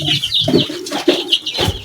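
Six-day-old baby chicks in a brooder give repeated high, bright chirps and peeps, fairly close, with a few lower clucking notes mixed in over about two seconds.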